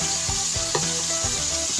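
Squid sizzling and frying steadily in a hot pan just after soy sauce goes in, with a close, continuous crackle and a few stirring scrapes, no voices.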